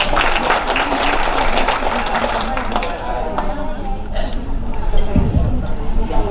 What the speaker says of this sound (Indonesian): Tepuk tangan dulu untuk Ibu Nurki.